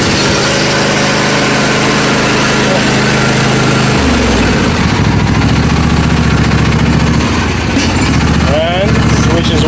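John Deere 155D lawn tractor engine cranked and started with the choke on, a steady close mechanical drone that shifts in pitch and rhythm midway, with a voice heard over the running engine.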